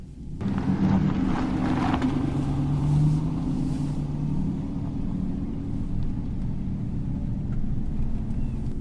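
A 2019 Ram Rebel pickup in four-wheel drive high climbs an icy hill, its engine a steady, loud low rumble with a droning tone that holds throughout, no voices.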